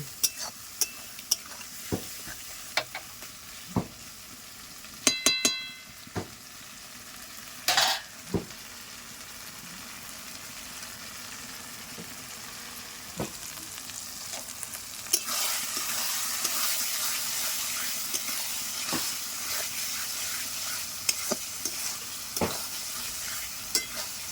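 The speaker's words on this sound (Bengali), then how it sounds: "এই মশলাটাকে ভালো করে কষে নিতে হবে যেহেতু বাটা মশলা সব কিছু ভালো করে কষে নিচ্ছি দেখো" Chicken with homemade ground spice paste sautéing in a pan, a spatula stirring with scattered scrapes and clinks over a building sizzle that grows louder in the second half, close up, no voices.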